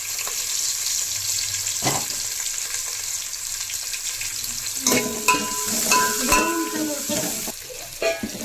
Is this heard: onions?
yes